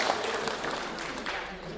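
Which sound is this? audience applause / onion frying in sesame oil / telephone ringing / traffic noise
audience applause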